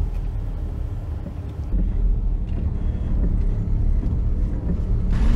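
Cars stand in a slow traffic jam near Bombinhas, Brazil: a steady, loud, low engine and road rumble, heard from close by with no speech.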